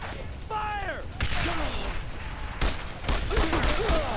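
Gunfire in the World War II shooter Brothers in Arms: Road to Hill 30 crackles in scattered bursts amid battlefield noise, with whistling, rising and falling tones and shouted voices in the mix.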